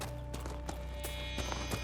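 A summoned horse's hooves clip-clop in the video game Dragon Age: Inquisition, a quick run of distinct close hoof beats over a steady game soundtrack.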